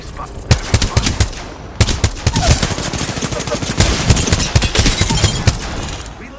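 Loud, rapid automatic gunfire in the Apex Legends video game, with dense bursts of shots cracking almost nonstop through the whole stretch and only a brief lull early on.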